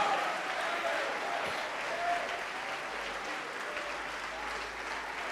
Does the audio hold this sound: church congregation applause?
yes